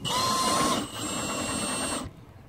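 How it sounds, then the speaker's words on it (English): A cordless drill whirs close by for about two seconds, dipping briefly in pitch midway, then cuts off into quiet. "you can just use a cordless drill"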